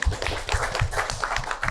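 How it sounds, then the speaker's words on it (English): Audience at a panel event on cultural patrimony repatriation giving a brief round of applause, a short patter of overlapping claps at moderate distance. "Maybe she deserves a round of applause."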